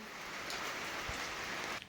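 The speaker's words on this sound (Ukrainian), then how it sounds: "Ти бачила, який дощ падає?" Steady rain pouring down outdoors in bad weather, a dense continuous hiss of drops striking surfaces, close and even throughout with a brief soft thump near the middle and a slight drop at the very end.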